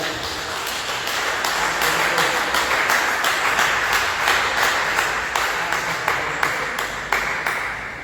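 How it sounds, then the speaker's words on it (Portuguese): A church congregation claps for Jesus in a steady, sustained wash of applause that fills the room for about eight seconds, with sharper individual claps standing out on top of it. "dê uma salva de palmas bem alegre para Jesus"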